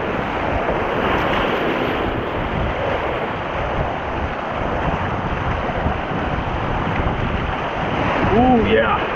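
Whitewater rapids on the Ocoee River roar steadily around a tandem kayak, a loud, continuous rush of churning water and wind noise with no break across the whole stretch.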